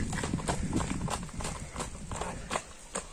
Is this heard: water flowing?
no